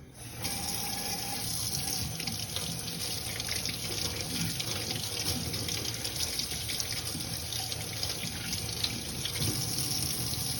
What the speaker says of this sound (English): Before we start, we have to wash our hands.